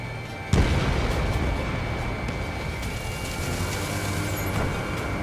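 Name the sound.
missile fired from a fighter jet in the video game Ace Combat 7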